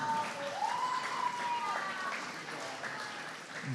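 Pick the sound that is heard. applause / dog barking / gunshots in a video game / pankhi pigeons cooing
applause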